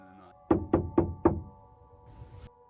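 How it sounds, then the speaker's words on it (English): Four loud, evenly spaced knocks on a door in the middle of the night while camping, sharp and close, followed by quiet. "they were jolted awake by a loud knock at the door"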